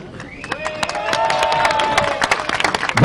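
Crowd applauding and cheering for winning rally crew Cédric Robert and Mathieu Duval atop their Clio R3T on the final podium of the 64th Rallye du Var, dense clapping building steadily with a sustained tone above.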